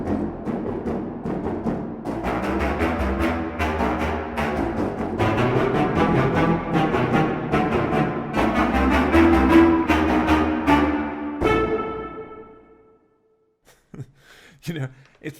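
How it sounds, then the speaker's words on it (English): An 8Dio Majestica 30-piece low woodwind ensemble plays a quick run of short, punchy staccato notes, thick and rhythmic, ending on a ringing chord that fades, followed by a few brief faint sounds. "This is our 30-piece low short ensemble"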